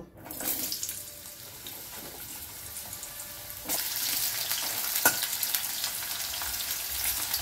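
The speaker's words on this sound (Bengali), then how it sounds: "আমি কড়াইয়ে তেল দিয়ে দিয়েছি, তেলটা একটুখানি গরম হোক। এখন আলুগুলো দিয়ে দেব" Potatoes dropped into hot oil in a kadai for a mustard drumstick dish, a quieter sizzle at first that swells into a loud, steady close crackling frying noise with a sharp click midway.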